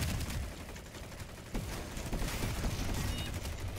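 Game gunfire from PlanetSide 2 in a dense, continuous battle din, with overlapping bursts and a sharper crack partway through, fairly quiet and steady throughout.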